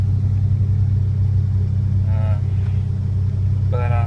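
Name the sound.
Ford Ranger 2.9 engine idling high while cold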